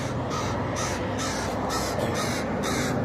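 Several loud crows caw repeatedly in bursts close by over a steady background hiss, with no talking.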